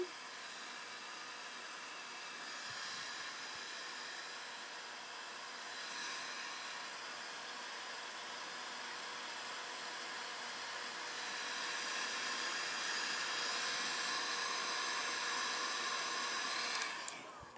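A heat gun blows a steady, close, breathy rush of hot air over a thrifted mushroom decorated with an IOD Hidden Hollows moulded piece, swelling slightly louder toward the end before cutting off.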